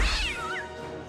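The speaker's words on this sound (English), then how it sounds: "this is the one where Cindy gets into the fight with the cat" A cat in a movie fight scene lets out a single loud, drawn-out meow that wavers in pitch, close and clear for about a second.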